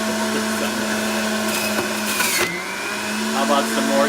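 A Breville juicer grinds carrots, celery and kale, a loud steady motor whine with a strong hum and rough crunching as produce is pushed through, close by, with someone talking over it.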